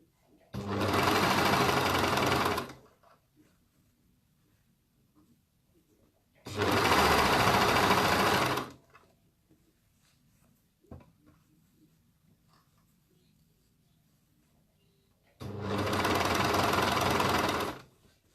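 A sewing machine stitches in three loud, steady runs of about two seconds each, separated by quiet pauses, during a live home sewing session.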